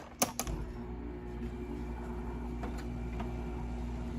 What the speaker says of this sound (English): I will go ahead and turn on my air conditioner